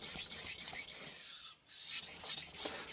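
A Yoshida Hamono ZDP189 bunka knife, 190 mm, grinds across a ceramic sharpening stone in repeated back-and-forth strokes, a close, gritty rasp with one brief pause midway.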